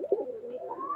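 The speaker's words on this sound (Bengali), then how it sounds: "এই যে মাশাআল্লাহ চীনা কবুতর পেয়ারটা দেখেন" One faint, brief coo from a pair of Chinese pigeons kept in a loft, a short low murmur heard alone.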